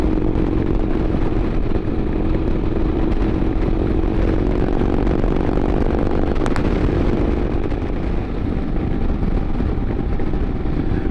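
Harley-style 113 cubic inch V-twin motorcycle riding on a tree-lined mountain road, a steady loud engine drone with wind rush throughout, no talk.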